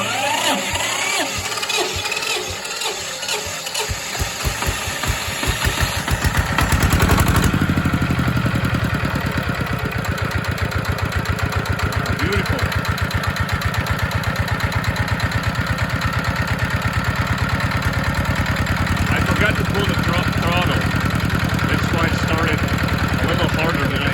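A Chinese ZR185 single-cylinder diesel engine on its second run, still cold: it turns over and catches, then settles into a steady, loud, rapid chugging idle that carries on for the rest of the clip, with a voice talking over it.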